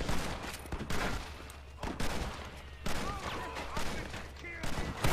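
Repeated gunfire from the Red Dead Redemption video game, sharp shots and bursts in a fierce firefight on the road to Mexico, loud and steady throughout.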